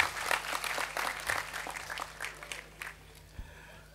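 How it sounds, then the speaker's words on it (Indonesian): An audience at a Mocopat Syafaat gathering with Cak Nun and Kiai Kanjeng in Wedomartani claps loudly at first, then the applause thins and fades over a few seconds. "Tepuk tangan semuanya,"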